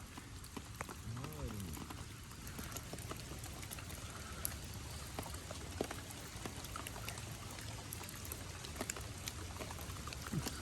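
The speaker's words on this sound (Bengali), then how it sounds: "বৃষ্টিও পড়লো মামা কঠিন বৃষ্টি" Heavy rain falls steadily and densely outdoors during a fishing trip, a constant close hiss with scattered sharp drop impacts, and a voice speaks briefly beneath it.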